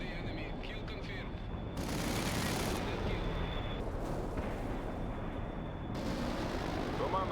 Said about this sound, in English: Heavy gunshot.